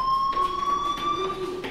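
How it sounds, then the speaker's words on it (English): A fire alarm in the video game Life is Strange sounds as a continuous high electronic tone with steady pulsing, loud and persistent for the whole stretch. "Hey, do you hear that fire alarm?"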